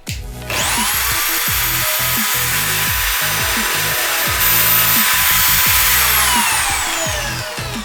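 A HiKOKI electric drill mounted in a drill stand spins up and drills a hole, a loud continuous whine with a slight pitch shift midway and a gradual winding down at the end.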